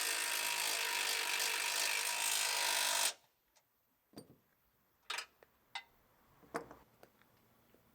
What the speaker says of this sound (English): Run the bolt in.